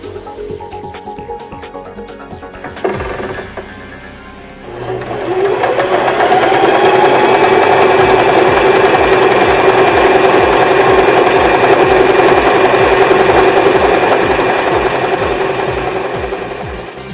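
A Janome 2012 sewing machine stitching a decorative pattern: quieter mechanical tapping at first, then a loud, steady, rapid whirring chatter that runs continuously.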